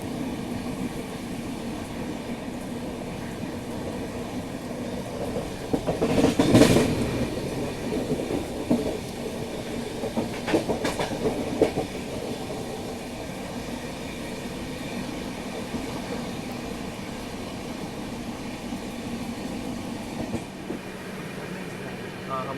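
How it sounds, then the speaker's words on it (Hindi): A train runs along the line with a banker locomotive at the rear, giving a steady rolling rumble with a louder surge of wheel and track noise partway through and a few fainter swells later. "ये हमारी ट्रेन के बैंकर लोकोमोटिव से पीछे।"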